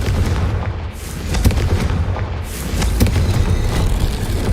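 Confringo fire spell explosion in the video game Hogwarts Legacy: loud, sustained booming blasts with heavy low rumble and crackling bursts, one swelling after another.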